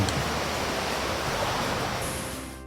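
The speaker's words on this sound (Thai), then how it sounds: "น้ำทะเลก็จะ ไม่น่าเล่นเท่าไหร่นะครับ เพราะคลื่นลมแรง" Rough monsoon surf and strong wind on the southern Thai coast at Khanom, Nakhon Si Thammarat, form a loud, continuous broadband roar with no distinct wave breaks, steady throughout with no voices.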